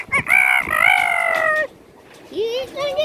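A rooster crows loud and close in one long drawn-out call, then gives a shorter rising cluck.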